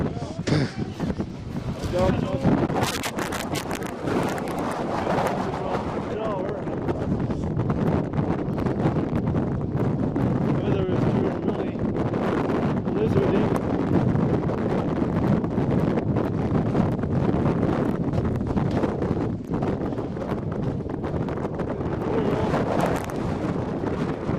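Strong wind buffets the microphone on a canoe trip, a constant heavy rumble and roar that runs unbroken for the whole stretch, with people talking faintly underneath.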